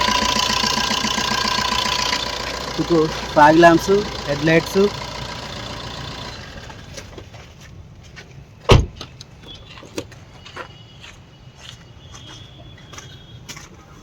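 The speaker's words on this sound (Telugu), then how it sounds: "ఇంజన్ సౌండ్ చూసుకోవచ్చు" A Ford Figo Aspire's engine idles steadily at close range with a low, even hum, while someone talks over it and a sharp knock or door thud sounds partway through.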